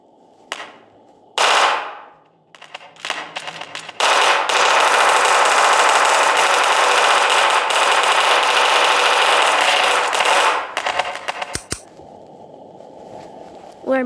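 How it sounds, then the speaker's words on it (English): An auto pistol fires in the game Melon Playground, a few sharp separate shots and then a long, loud, continuous rapid-fire burst lasting several seconds before it cuts off. "Now the first is an auto pistol."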